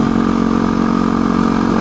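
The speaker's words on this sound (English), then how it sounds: "okay, I'm riding this motorcycle today" A turbocharged Yamaha WR250R motorcycle engine drones steadily while riding, with a rapid, even throb, loud and close, holding a constant pitch throughout.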